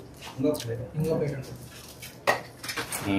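Ceramic plates knock and clatter together as one is lifted from a stack in a home kitchen during dosa making, a few sharp clinks between stretches of conversation.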